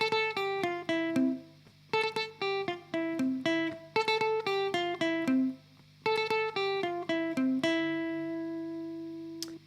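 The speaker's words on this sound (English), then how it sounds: "the little secondary riff that appears in the verses of this song" A clean electric guitar plays the repeating secondary verse riff from a song, quick picked notes in looping phrases separated by short gaps, ending on a sustained note that rings out alone and close.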